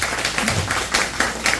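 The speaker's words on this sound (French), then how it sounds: "je vous demande d'applaudir chaudement" Applause from an audience at a university debate, dense and continuous with clear repeated hand-clap accents throughout.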